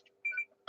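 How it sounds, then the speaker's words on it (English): A phone alarm gives short electronic beeps, faint and close, in a quiet room with a low steady hum underneath. "there was an alarm in my phone"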